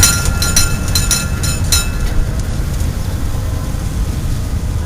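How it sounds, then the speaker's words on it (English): A narrow gauge train rumbles steadily along the track with a low continuous drone and a few bright metallic squeals early on, close and fairly loud. "The train I'm driving."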